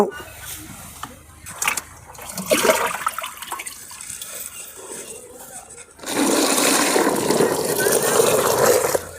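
Water is poured into a pure gram flour mixture for jivamrut organic fertilizer, a loud gushing rush in the second half, preceded by splashing and handling noises under a man's speech.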